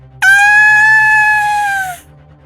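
A person voices a shrill, high-pitched scream in imitation of a game character, one steady sustained cry of nearly two seconds, loud and close, then it fades away.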